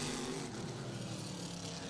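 A race car runs on the track at Riverhead Raceway, its engine a steady, fairly distant droning roar that holds level throughout without talk.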